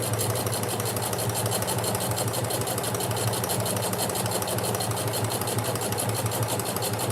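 A home sewing machine running steadily during a late-night sewing session, a continuous fast mechanical whir and rattle at an even pace, close and unbroken with no voices.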